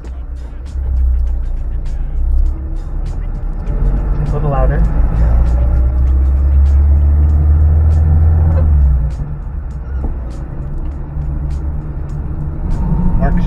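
Low, rumbling engine of an old Soviet-era Russian car running while driving, a steady heavy drone that swells for a stretch and then eases, under people talking inside the cabin.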